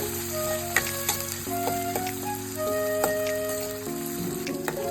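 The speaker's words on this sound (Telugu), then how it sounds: "ఆనియన్స్ మంచిగా ఆయిల్లో ఫ్రై అవుతున్నాయండి" Onion pieces fry in oil with a continuous close sizzle and occasional stirring clicks, while steady tonal music plays alongside.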